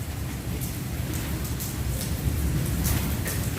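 Heavy monsoon downpour with gusting wind, a dense continuous hiss of rain on surfaces with a deep low rumble underneath, close and steady, with no voices.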